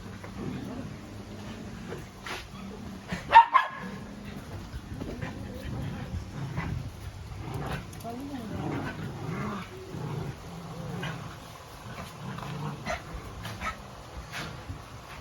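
Stray rescue dogs in a kennel in Wuhan, China, some of them sick and coughing, barking now and then and whimpering at close range, with soft panting and scuffling throughout.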